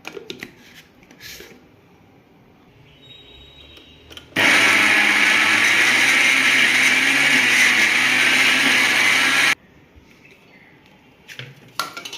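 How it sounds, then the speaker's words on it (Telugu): Electric mixer grinder pulverising cooled lentils for Andhra purnalu, a loud steady whirring roar that starts abruptly, runs about five seconds and stops, with quiet kitchen handling before and after. "పప్పు అంతా చల్లారిపోయింది. ఇప్పుడు గ్రైండ్ చేసేసుకుందాం."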